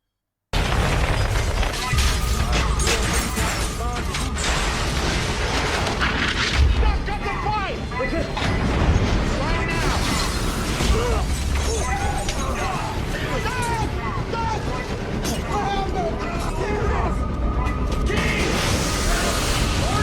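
Chaotic footage of the Deepwater Horizon offshore oil rig explosion: dense roaring blasts, fire and alarm-like noise with shouting voices throughout, loud and continuous.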